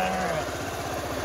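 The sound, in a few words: sheep bleating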